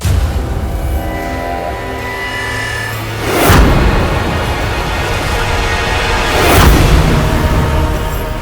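Two deep booming explosions in a tunnel a few seconds apart, each a broad rumbling burst over a steady low background noise.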